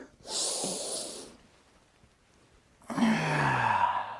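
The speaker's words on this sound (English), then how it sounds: "breathe with me, in breath" A long nasal in-breath at a taiji class, loud and close, then a pause and a second breathy exhale-like rush with some voiced tone beneath, no speech.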